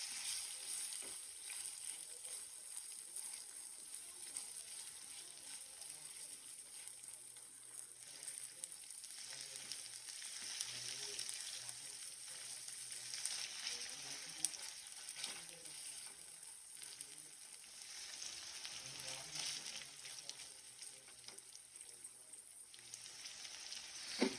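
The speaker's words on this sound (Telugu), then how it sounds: "చికెన్ మంచిగా దీంట్లో ఫ్రై చేసుకున్నాం మంచిగా రోస్ట్ అవ్వాలన్నమాట చికెన్ మంచి రోస్ట్ అవ్వాలి ఈ ఆయిల్లో మంచి రోస్ట్ అవ్వాలి" Chicken pieces frying and roasting in hot oil give a steady, dense sizzle with soft stirring scrapes, close and continuous throughout.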